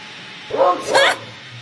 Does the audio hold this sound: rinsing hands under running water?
no